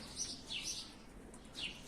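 Tumbler pigeons in a breeding coop give a few faint, brief high chirps, spaced apart over a soft, steady background.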